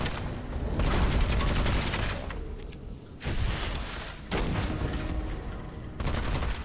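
Rifle fire in the video game Witchfire, a dense sustained roar of rapid shots and booms that cuts off briefly and resumes several times, loud and close.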